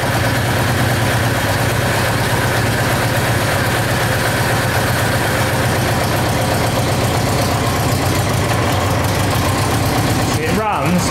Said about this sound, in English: It runs, but as soon as you put the choke in or touch the throttle, it dies.